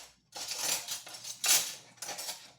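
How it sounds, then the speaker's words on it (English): Metal silverware clatters and clinks in three short bursts, close and fairly bright, with brief pauses between and no talking. "I know I'm making a lot of noise with this silverware, aren't I?"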